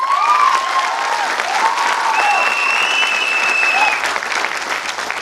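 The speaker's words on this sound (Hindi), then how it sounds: "ठोको ताली" A crowd claps loudly and steadily through the whole stretch while bright whistles sweep across the applause.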